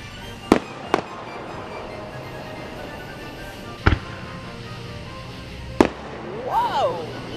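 Fireworks at a farm at night burst in four sharp, separate booms spread across several seconds, with a whistling rocket rising near the end, over a constant background of frogs and insects.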